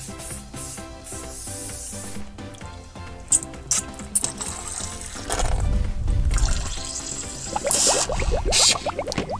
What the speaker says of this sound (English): Okay, let's get all the water out of Doc.